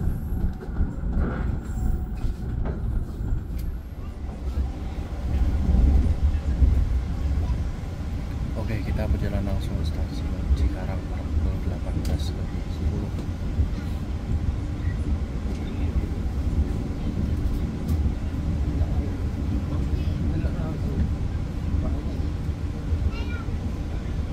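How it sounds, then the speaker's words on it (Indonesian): The Jayabaya stainless new generation passenger train runs east through rain on an afternoon, a steady low rumble of wheels and carriage noise heard from inside, with occasional faint squeals and clicks over the continuous drone. "kereta api Jayabaya melaju ke arah timur sambil diiringi hujan di sore hari"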